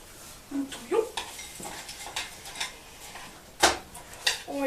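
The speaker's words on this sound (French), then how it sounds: "Ensuite, nous touillons" A spoon stirs muesli into melted chocolate in a bowl, giving scattered scraping and clinking taps at an uneven rhythm, fairly close and moderately quiet.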